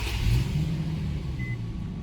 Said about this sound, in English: So let's crank up the car real quick.